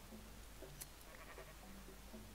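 Sheep in the video game Minecraft bleat a few times, short faint calls scattered over a low steady background hum.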